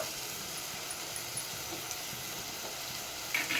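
Steady sizzling from mushroom curry cooking in a pan, a soft continuous hiss with faint bubbling, no voices.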